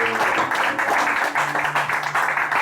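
A church congregation applauds during a service, many hands clapping continuously and fairly close, with voices mixed in underneath.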